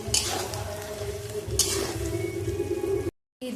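Spices with salt, turmeric and dried chili powder sizzle and fry steadily in a pan while being stirred, with light scrapes and clinks of a utensil, and a brief cut to silence near the end.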